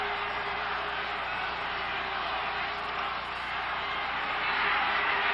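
A continuous stadium crowd roar fills a Montreal Alouettes versus Edmonton Eskimos football game, broad and steady, swelling slightly louder near the end.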